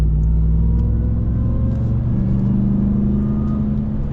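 Deep steady rumble of a 2022 Ram 1500 TRX pickup with its supercharged engine while driving, a loud continuous low drone heard from inside without talk.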